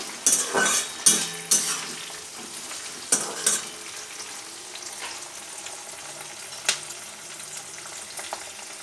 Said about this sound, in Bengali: এবার আমি এর মধ্যে দেব কেটে রাখা পেঁয়াজ ভালো করে পেঁয়াজটাকে ভেজে নেব